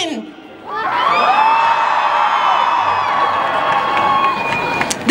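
A large crowd at an anti-slavery demonstration in Stockholm erupts into sustained loud screaming and cheering for several seconds, following a brief voice at the start.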